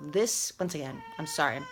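A pet cat meows several times in quick succession, loud and close, while a woman apologises over the cries.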